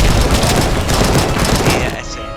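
Dense, rapid gunfire from a machine pistol in the video game Robocop Rogue City, a continuous loud burst that ends abruptly near the close of the clip.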